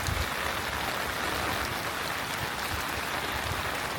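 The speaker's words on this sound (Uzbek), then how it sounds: "Yomg'ir yaxshi yog'ayotgan." Steady rain pours down in a dense, continuous hiss with a low rumble underneath, heard close and unbroken from start to finish, with no voices.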